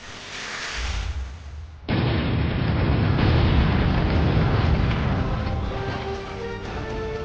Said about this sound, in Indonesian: Kuil Bayuni meledak.